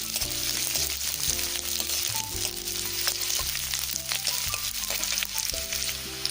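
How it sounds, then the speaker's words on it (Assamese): Chopped onions fry in hot oil with dried chillies and panch phoron, making a steady, close sizzle and crackle throughout, with occasional stirring clinks. "পিঁয়াজখিনি ৰঙচুৱা হোৱালৈকে ভাজিম।"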